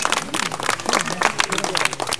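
An audience applauds at an outdoor cooking festival, dense steady clapping from a nearby crowd with voices mixed in underneath.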